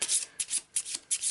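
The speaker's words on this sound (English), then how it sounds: "Our usual shuffle." Arkham Horror location cards, the green location deck with Curse of the Dark Pharaoh expansion cards mixed in, riffled in four quick close bursts of crisp papery flutter with short pauses between.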